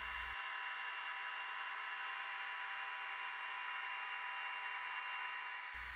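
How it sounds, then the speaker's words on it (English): An HO scale ScaleTrains SD40 locomotive sound decoder in dynamic brake mode gives a steady, loud whooshing fan roar that holds evenly and alone for several seconds. "F4 puts the engine in dynamic brake mode."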